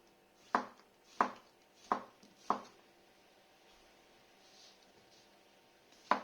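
Knife slicing a chilli on a cutting board: four sharp, evenly spaced chops with a crisp knock on the board, a pause, then one last chop.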